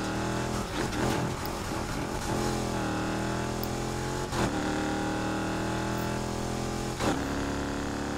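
A Honda NSX engine in the racing game Need for Speed Heat hums steadily, its pitch sliding up and down through shifts, with a few sharp transient bursts and no voices.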